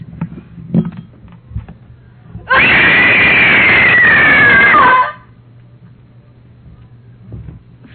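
A woman lets out a single loud, sustained scream of rage lasting a few seconds, with only quiet room noise before and after it.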